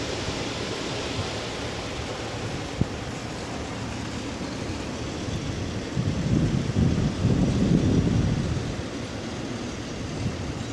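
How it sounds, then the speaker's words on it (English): Low wind blowing during a storm gives a steady, rushing broadband roar that swells into a stronger gust midway, then eases back, with no voices. "Oh, now here we come, some low wind."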